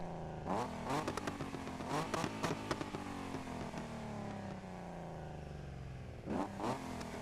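A loud, throaty 1971 Nissan Skyline engine in Need for Speed (2015) revs repeatedly with sharp crackles and pops, then eases into a rumbling idle before another rev.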